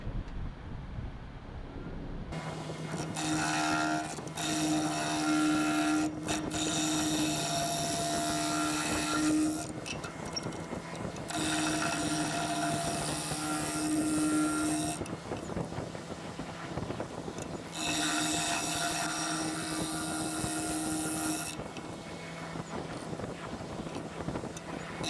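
A cherry wood bowl spins on a lathe with a steady motor hum while sandpaper hisses against it in several long passes.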